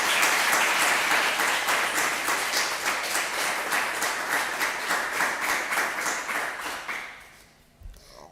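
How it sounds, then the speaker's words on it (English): An audience at a STEM innovation contest finale claps steadily for several seconds, a dense patter of hands that gradually thins and fades out at the end. "So, applause for Annabel."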